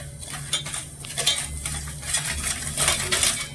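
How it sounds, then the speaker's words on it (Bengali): A spoon stirs sugar and water in a pan on the stove, melting it into syrup for the sweet kheer mohan, giving a close, continuous scraping and clinking of metal with a faint sizzle underneath. "এবারে চিনিগুলো ভালো করে আমি গলিয়ে নেবো"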